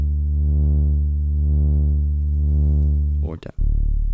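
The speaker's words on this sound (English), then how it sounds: "I've made a bass sound inside another stock synth called Polysynth." A warm saw-wave bass synth patch from Bitwig's stock Polysynth holds one deep, buzzy sustained note that swells gently about once a second, then glitches and cuts briefly before resuming.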